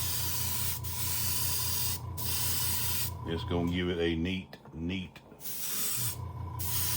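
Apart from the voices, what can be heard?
airbrush spraying Silver Spectrum paint onto a fishing lure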